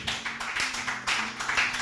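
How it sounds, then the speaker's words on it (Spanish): A church congregation claps for the Lord during a Spanish-language service, a dense, steady patter of many hands that carries on throughout, with a low sustained tone underneath. "Denle un fuerte aplauso al Señor"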